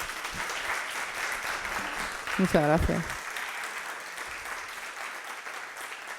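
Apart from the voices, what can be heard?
audience applause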